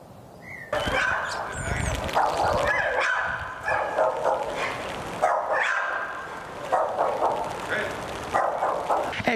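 Pitbull dogs that attacked an 83-year-old woman in her home on the outskirts of Padua bark in repeated loud bursts with some yips and whimpers, close by, mixed with human voices.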